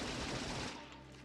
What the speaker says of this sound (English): They didn't hear the gunfire.